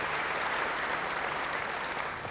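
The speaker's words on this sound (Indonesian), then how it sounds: "Beri tepuk tangan yang baik bagi dia." A congregation applauds a speaker during a sermon, producing a thick, continuous wash of clapping at a steady, fairly loud level for a couple of seconds.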